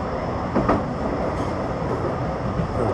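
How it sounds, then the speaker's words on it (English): A Blackpool tram rumbles steadily along its rails between Fleetwood and Starr Gate, with a constant low drone and faint clicks from the wheels over the track. "Feels just like being on a tram"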